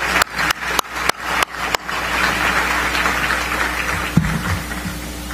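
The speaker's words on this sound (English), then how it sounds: "let's start by giving a big round of applause to Broadway and Chicago" Applause from an audience at a Chicagoland Chamber of Commerce annual meeting, opening with several sharp loud bursts, then settling into a sustained, even wash of clapping that carries on to the end.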